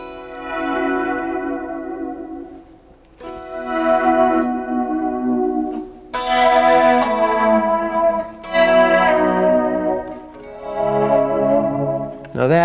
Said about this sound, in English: I do a lot of things, ethereal effects with delays and similar type sounds